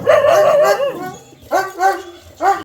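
Dog barking and yipping at close range at home, a run of harmonic barks and whines followed by two more short barks with pauses between.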